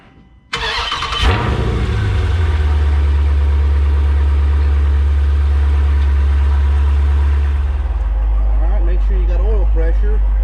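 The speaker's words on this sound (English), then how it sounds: "let's start the car" A Dodge Challenger or Charger Scat Pack V8 cranks and fires after an oil change, then settles into a loud, deep, steady idle heard up close. The revs drop slightly near the end.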